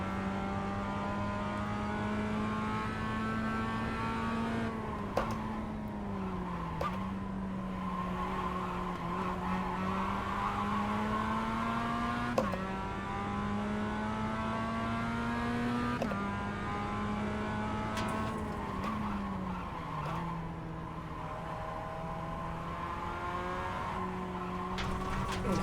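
An iRacing race car on a hot lap: a sustained engine drone rising and falling through gear changes, tires squealing in corners, no talking.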